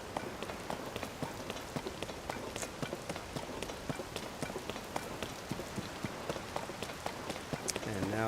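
Steady rain pours down in Zelda: Tears of the Kingdom, pattering densely on surfaces with scattered sharper drops, continuous and fairly close, with no voices.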